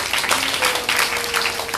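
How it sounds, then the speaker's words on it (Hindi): An audience at a Bhagwat katha gathering in Vrindavan claps loudly in a sustained wash of applause, with a faint held musical tone running underneath. "इन्हीं के लिए भी हम लोग जोरदार ताली बजाएंगे।"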